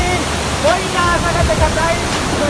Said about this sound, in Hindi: बहुत बड़े झरना है यहाँ, देख ले रहा तुम मन।